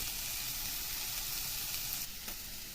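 Chicken frying in a pan, a dense, constant hiss of sizzling oil heard up close with a faint scrape near the end and no voices.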